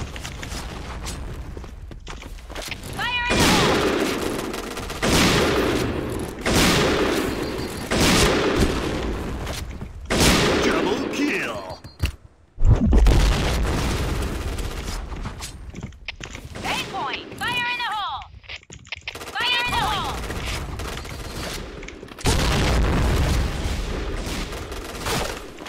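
Grenade blasts and gunfire in a shooter video game, loud dense bursts of shots and booms running nearly throughout, with a sharp heavy blast near the middle and voices speaking over the action.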